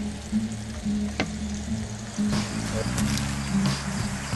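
Burger steak sizzles loudly and steadily in a hot frying pan, a continuous close crackle with occasional sharper pops.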